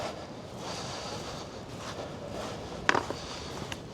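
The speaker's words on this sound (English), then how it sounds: "The waves are big as well." Big sea waves breaking on a rocky shore where surfers are out, a steady roaring wash under strong wind noise with a sharper crash near the end.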